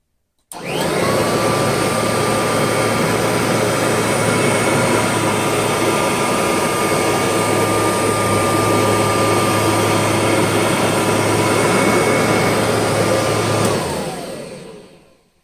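A Kirby Heritage II Legend vacuum cleaner, with its height selector at position 3, runs over carpet. Its motor roars loud, close and steady for about thirteen seconds, then winds down, with no talk.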